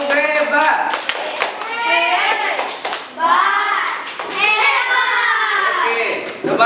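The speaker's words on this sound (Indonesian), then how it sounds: "Kasih tepuk hebat dong." Children in a third-grade elementary classroom chant a rhythmic cheer together, loud and close, with patterned hand claps and slaps mixed into their voices.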